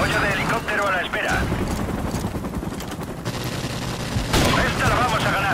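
Gunfire in a multiplayer shooter game with helicopter support rattles in continuous bursts under a steady rumble, loud and close, with voices talking over the battle.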